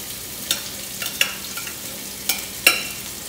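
Onions and fennel fry in a pan under a light sizzle, with a handful of sharp spatula scrapes and knocks spaced irregularly, close by and with no one speaking.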